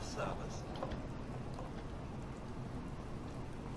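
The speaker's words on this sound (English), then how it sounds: "Hope this rain lets up soon." Rain in the Fallout 4 video game pours steadily as a dense, low wash of drops, with a voice talking over the top.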